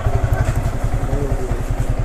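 A Yamaha R15 V4 motorcycle engine runs with a steady, rapid low throbbing pulse, close and loud, idling evenly throughout.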